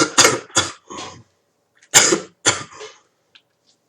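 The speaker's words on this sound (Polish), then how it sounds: "Wybaczcie mi cały kaszel" A man coughs in two fits while playing Lego Star Wars III: The Clone Wars, each a quick burst of three or four harsh, close coughs separated by a second of silence, with a few faint trailing sounds afterward.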